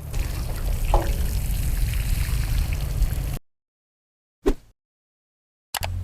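Water poured over newly planted plants until the soil is soaked, a steady close splashing trickle for about three seconds, then silence broken by two brief splashes.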